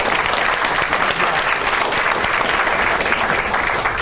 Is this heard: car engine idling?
no